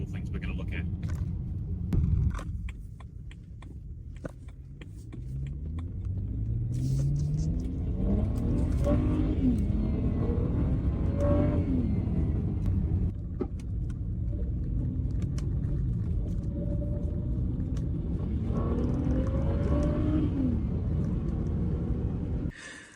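A BMW 335 on the move, with a low steady engine rumble and road noise from inside the cabin, rising through a few rev sweeps as it accelerates.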